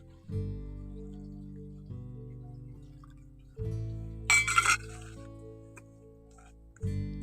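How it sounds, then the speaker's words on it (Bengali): A bowl of milk is poured into semolina sponge cake mix, giving a brief splashing burst of liquid that stands out over steady background music. "এবার এর মধ্যে এক বাটি দুধ দিয়ে দিচ্ছি"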